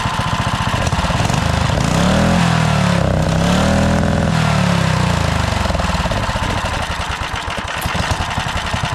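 A small 420cc engine fitted with a big turbo runs loud and close, its pulsing exhaust drone rising and falling through a rev swell in the middle while the turbo whine spins up over the engine note.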